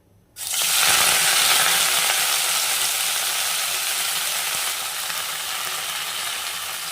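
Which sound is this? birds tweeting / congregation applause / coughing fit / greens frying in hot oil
greens frying in hot oil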